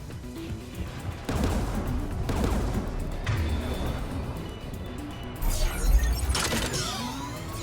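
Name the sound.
turret gunfire in a video game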